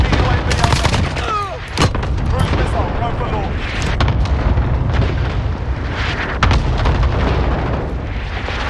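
Call of Duty: Modern Warfare battle audio with continuous gunfire, blasts and rumbling explosions around a cruise missile strike, loud and dense throughout, with game voice callouts over it.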